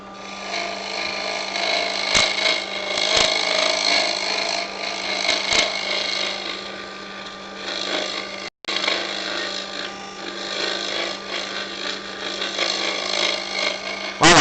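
Material is hollowed out with a tool in a steady, continuous rasping grind, close and loud, with a low hum beneath and a few brief knocks and one short break.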